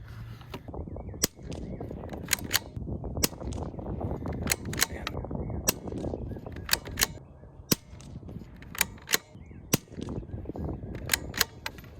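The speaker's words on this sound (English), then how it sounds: "I'm gonna fire one more." Sharp, sudden gunshot cracks ring out at an outdoor shooting range where a Bergara B14R rifle is being fired, the loud reports scattered irregularly across the stretch over a constant background hiss.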